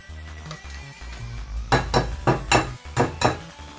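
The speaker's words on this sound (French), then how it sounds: "Et là on mélange l'œuf." An egg being beaten in a plate with a utensil while breading a cordon bleu, a run of quick, sharp clinks and taps against the plate, close and clear, with no talking.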